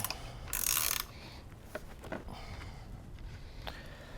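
A wrench loosening the rear wheel axle nut on a BMX bike, with a brief burst of ratcheting clicks followed by scattered metallic clicks and clunks, close and moderately quiet, no talking.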